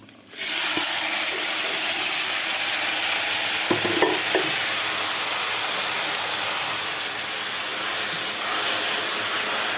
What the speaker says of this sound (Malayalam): തേങ്ങ അരപ്പും കൂടെ ചേർത്ത് നന്നായിട്ടൊന്ന് വഴറ്റിയെടുക്കും